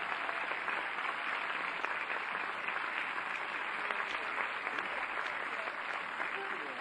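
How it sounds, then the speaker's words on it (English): A tennis crowd applauds steadily as a player walks onto the court for a professional match, a continuous wash of clapping from many hands while an announcer speaks over it. "Please put your hands together."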